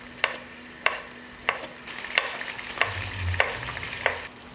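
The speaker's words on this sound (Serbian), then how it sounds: "pržit ću šargarepu dok ne omekša" Carrots fry in a pan as a low steady sizzle, with a spatula scraping the pan at a regular beat about every two thirds of a second, close and with no talk.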